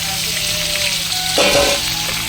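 Carrots sizzle loudly in a pan for carrot prawn rice, a steady hiss with a brief stirring clatter partway through.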